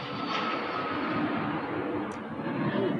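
Cessna Citation jet taking off at a Texas airfield, a broad steady roar of engine noise that holds loud and constant at a distance.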